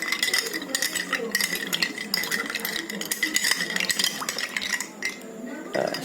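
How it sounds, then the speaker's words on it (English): A spoon stirs milk in a cup or pot while making iced milk, clinking and scraping steadily against the sides over about six seconds. A little background noise runs underneath, and the stirring breaks off briefly near the end. "And you can stir this milk."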